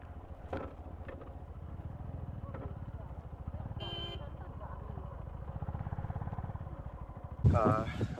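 A motorcycle rides into a sal forest, its engine humming steadily at moderate distance with a louder rise near the end, under occasional voices.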